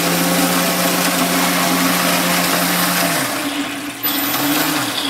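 A Traxxas Velineon brushless electric motor in an RC car runs with a loud, steady droning whine, then dips in pitch and spins back up near the end.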